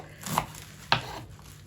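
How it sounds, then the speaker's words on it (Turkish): Garlic being finely chopped with a knife on a cutting board, two distinct close taps about half a second apart over quiet background. "Sarımsaklarımızı elimizden geldiği kadar küçültüyoruz ince ince doğrayacağız."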